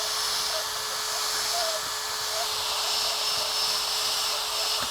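A small angle drill spinning a copper pipe cleaner attachment, a steady high-pitched whine that holds continuously and close throughout, with no pauses.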